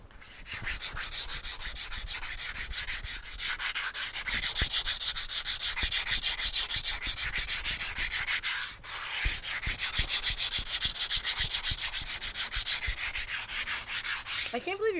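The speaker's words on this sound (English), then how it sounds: "I can't believe you're trusting us to help you sand this." A wooden carving being hand-sanded, the abrasive rubbing in long steady strokes that go on continuously, with a brief pause about midway before the scraping resumes, close and fairly loud with no voices over it.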